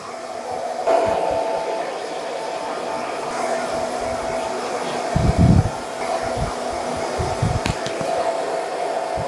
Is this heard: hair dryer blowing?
yes